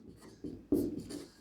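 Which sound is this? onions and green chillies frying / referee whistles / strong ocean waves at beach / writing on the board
writing on the board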